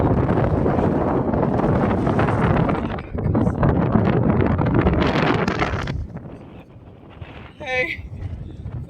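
Strong wind buffets the microphone in loud, roaring gusts on a motorcycle trip through the Romanian mountains, dropping briefly around the middle and easing toward the end.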